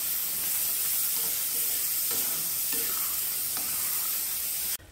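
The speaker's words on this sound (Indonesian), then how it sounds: "nih saya goreng tadi agak-agak dalam 3 menit" Black pepper beef sizzling and frying in a pan as it is stirred, a steady loud hiss with scraping stir strokes, no talking.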